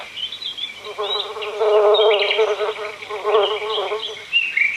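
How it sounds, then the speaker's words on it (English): Bees buzzing as a sound effect: a close, wavering drone that swells and fades in overlapping passes, with light chirpy tones over it. "Bees collect pollen and sweet nectar from flowers near and far."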